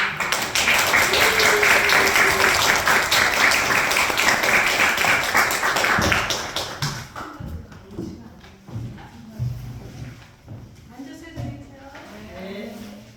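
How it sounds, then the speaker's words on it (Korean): A church audience greets a speaker with warm applause, dense clapping for about six seconds that fades into scattered claps and room noise, with voices speaking afterward. "우리 사모님 나오실 때 뜨거운 박수로 환영해 주시고"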